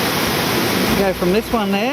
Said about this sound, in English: This whole little gorge here is all waterfalls.